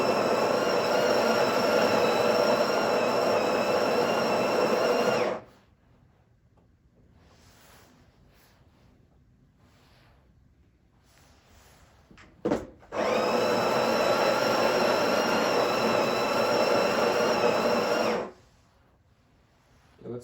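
Built-in grinder of a Breville Barista Pro BES878 espresso machine grinding coffee beans in two loud, steady whirring bursts of about five seconds each, separated by quiet and a brief click.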